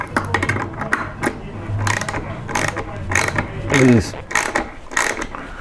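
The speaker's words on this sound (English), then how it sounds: "I'm just tightening up the last of the 2 lag bolts here" A ratchet tightens lag bolts on a workbench, sharp rapid clicking in short repeated bursts, close and loud, with a brief word spoken amid the strokes.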